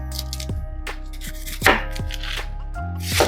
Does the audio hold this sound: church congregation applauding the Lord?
no